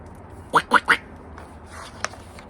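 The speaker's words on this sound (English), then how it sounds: "Can you see the little duckies there?" Ducks quack three times in quick succession, near and clear, followed by a fainter call and a brief click in an otherwise quiet setting.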